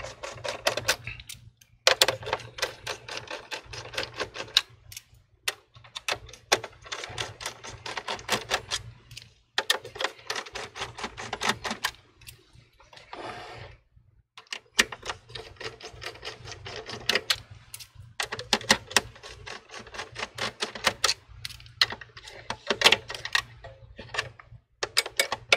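Screws being removed one after another from the back panel of an HP 22 all-in-one desktop computer during a teardown, heard as a long run of close, rapid ticking and clicking bursts separated by short pauses.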